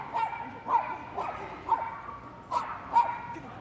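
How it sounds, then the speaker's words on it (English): A Jack Russell Terrier at an agility championship at Crufts gives a string of sharp, yappy barks, five or six spaced at uneven intervals, heard at mid-distance over a noisy arena background. "As you can hear, trappy little terrier"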